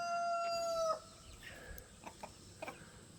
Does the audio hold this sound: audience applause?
no